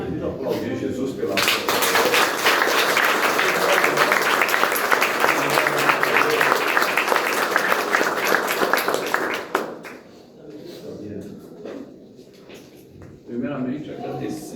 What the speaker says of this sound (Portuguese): Vamos aplaudir Jesus pela